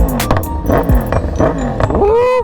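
Yamaha R6 sport motorcycle nearby, its exhaust letting out loud crackling pops and bursts as engine revs rise and fall, close and harsh with no one speaking.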